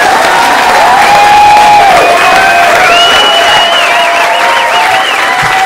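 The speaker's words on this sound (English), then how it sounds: "Nice round of applause, Mr. Jack Gallagher." A studio audience applauds and cheers loudly as a comedian is introduced in Brookline in 1988. The roar is continuous, with tonal whistles or music-like lines running through it.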